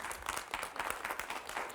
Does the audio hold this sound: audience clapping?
yes